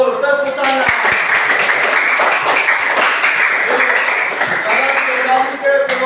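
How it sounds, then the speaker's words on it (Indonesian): A classroom of students bursts into lively applause after a correct answer, with dense clapping and excited voices mixed in, loud and close throughout. "Betul, tepuk tangan."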